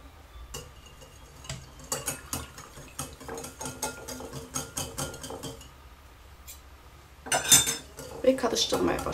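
Lye and oils for linden soap are stirred in a container, giving repeated light scraping and clinking taps against the sides in an uneven rhythm, close and fairly quiet, with a louder clatter near the end.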